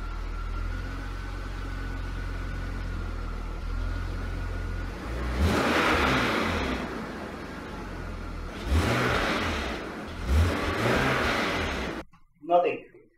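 A BMW E46 330Ci engine idles with a low steady rumble, then revs hard in three separate rising bursts while the driver tries to engage reverse on a car with a suspected failed gearbox. Voices are briefly heard near the end.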